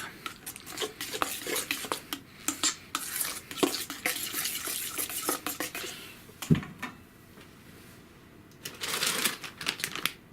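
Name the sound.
mixing dough with almond meal in a bowl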